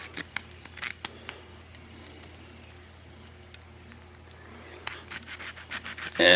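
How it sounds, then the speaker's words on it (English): Plastic bushing being cut in half during an F150 teardown, heard as a series of short scraping, snipping cuts with a quiet middle stretch and a louder burst of cutting near the end. "I'm going to go ahead and cut it in half"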